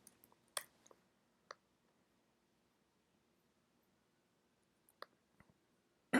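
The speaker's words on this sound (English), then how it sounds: "I'm clicking on the wrong links here." A computer mouse gives a handful of isolated, crisp clicks spread out over a near-silent background. They are close and quiet, with longer pauses between them and one louder click at the very end.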